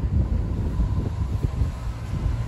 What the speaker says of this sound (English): It's windy, it's very cold.